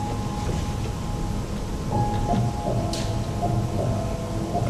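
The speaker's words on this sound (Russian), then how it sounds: "На улице, наверное, уже целые реки дождя." Steady heavy rain outside with a low rumbling wash of thunder underneath, dense and continuous, with a faint tone running through the background and no voices.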